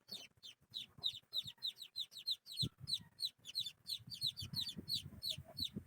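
Four oriental chicken chicks peep in a rapid, steady stream of high, sharp chirps while they are being tagged, close and loud, with soft handling rustles and bumps underneath.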